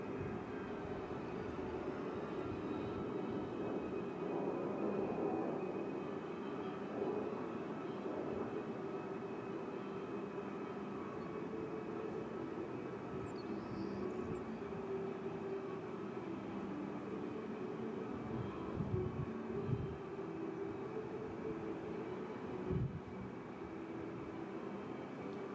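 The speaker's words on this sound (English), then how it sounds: "Notice how quiet the C-17 will be while passing show center." A C-17 Globemaster passes show center at an air show, producing a steady, fairly subdued broadband jet roar with low rumble that holds evenly throughout, without a sharp rise or fall.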